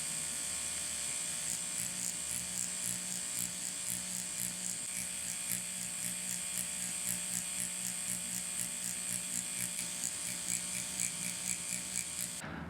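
A tattoo machine set around 7.5 to 8 volts buzzes steadily while pulling a line into skin, a continuous close mechanical whir with a fast ratcheting pulse running unbroken throughout, no voices.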